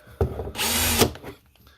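A DeWalt 20V MAX XR brushless cordless drill driver (DCD800) set to drill mode spins up and runs at high speed for about a second, loud and close, then winds down with nobody talking.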